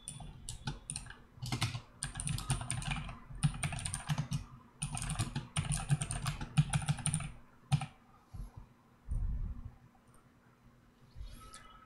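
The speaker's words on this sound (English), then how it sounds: "So I have typed this in" Bursts of rapid typing on a computer keyboard while filling in a form in a web app, with crisp close-up key clicks in uneven runs and short pauses, fading to a few scattered taps near the end.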